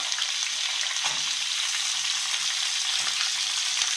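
Guntur chillies and onion fry in hot oil for tomato chutney, a continuous bright sizzle close up with occasional soft stirring scrapes.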